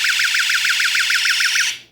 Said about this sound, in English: That's a very loud alarm.